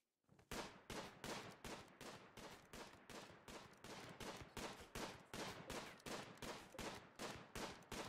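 Rapid gunfire in the Rimworld video game, a long sustained burst of evenly spaced sharp shots repeating about three times a second, loud and close, with no talk.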